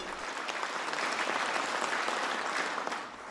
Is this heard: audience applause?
yes